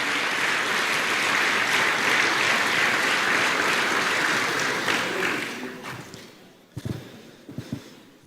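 Congregation applauding at a church service, a dense steady wash of clapping for about five seconds that thins out, followed by a few scattered knocks and breaths in near silence.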